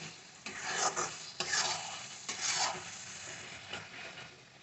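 Prawn curry masala frying in a pan while it is stirred, with soft sizzling and several distinct scraping strokes of a spoon against the pan, close but fairly quiet.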